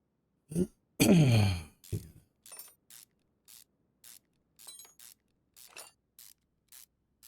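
A spray can hisses twice in short bursts on a car engine part in the Car Mechanic Simulator 2021 game, followed by a series of quiet, evenly spaced mechanical clicks and taps.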